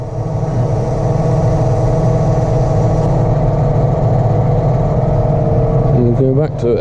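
A John Deere 6215R tractor pulls a Vaderstad Rapid drill through a muddy field, its engine holding a steady, loud drone close by throughout.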